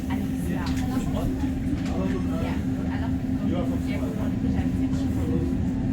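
REM light rail train pulling away from a station at 2 am, a steady low rumble and hum with a sustained tone throughout, heard from inside the car with people talking over it.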